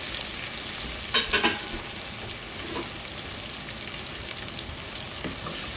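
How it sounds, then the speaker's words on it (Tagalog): Onions frying in a pan while being stirred, with a steady close sizzle and a few brief clattering scrapes of the spoon against the pan early on. "haluin natin, medyo make sure na makaramelize natin ang sibuyas"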